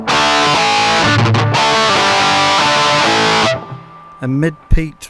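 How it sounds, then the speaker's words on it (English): Heavy, mid-peaked distortion from an EHX Metal Muff Pocket pedal, a dense and loud sustained wall of tone for about three and a half seconds that then cuts off, followed by a brief voice. "very heavy distortion"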